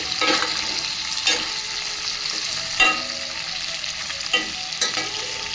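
Green chicken pieces, already partly cooked, fry in oil with a steady crackling sizzle, broken by periodic stirring scrapes and splashes a few times across the stretch; close and loud, with no talking.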